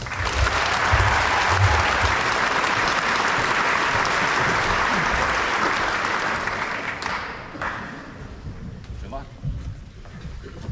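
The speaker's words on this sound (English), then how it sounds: "I want a big round of applause for Connect Performance" Loud, dense crowd applause at a volleyball club's opening ceremony, steady for several seconds, then thinning out and fading as the clapping winds down.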